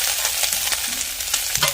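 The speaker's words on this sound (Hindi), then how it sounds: "अब इस तरह से हम चला लेते हैं मुरवायते को" Radish leaves frying in a tempering pan are stirred with a spoon, a steady close sizzle broken by soft scraping strokes.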